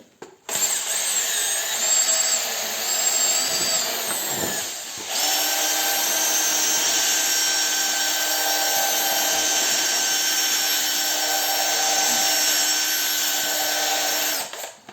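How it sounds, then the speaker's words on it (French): A drill-driver spins a paddle mixer through drywall joint compound, a steady loud whirring drone that runs almost the whole time, with a brief stop and restart near the start. "mis sur une visseuse, sur une perceuse visseuse, ok. Et avec ça donc on peut malaxer l'enduit"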